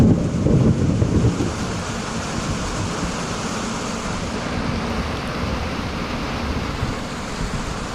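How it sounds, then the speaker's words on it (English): Heavy rain roars in a steady outdoor wash, with a deep rumble of thunder swelling at the start before settling into constant downpour. "Yep, here comes the rain."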